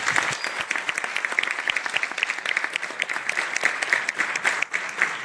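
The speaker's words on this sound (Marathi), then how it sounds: "एकदा ह्या सगळ्या छावाच्या टीमसाठी जोरदार टाळ्या होत्या" An audience at an event for the Chhaava film team bursts into loud, sustained clapping, many hands layered in a dense, uneven patter that continues without a break.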